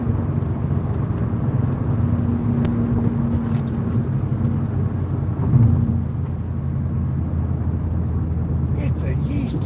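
A car rolls along a road, slowing down as it meets traffic, with a steady low engine and road rumble filling the cabin throughout.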